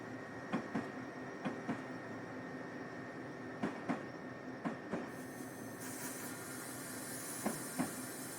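A locomotive in the Train Simulator 2021 game brakes and slows on the Gilroy to Newhall Yard run, with a steady rumbling hiss and regular metallic clicks of wheels over rail joints, then a brighter hiss near the end.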